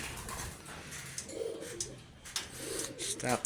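Racing pigeons in a loft give soft, low cooing calls in two short rounds over a background of faint rustling and shuffling noise.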